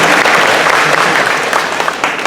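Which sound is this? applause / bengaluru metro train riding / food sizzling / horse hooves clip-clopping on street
applause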